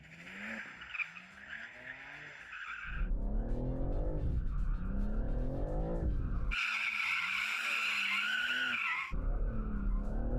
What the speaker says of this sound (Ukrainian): ви маєте можливість вімкнути тільки задню вісь і добряче дріфтанути